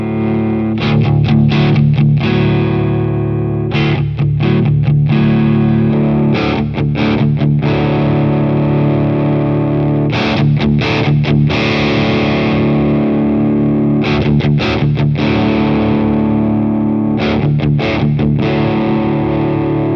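An electric guitar runs through a Demon FX King of Drive pedal in boost mode, pushing the front of a Katana amp: loud, driven chords and riffs played continuously with brief pauses between phrases.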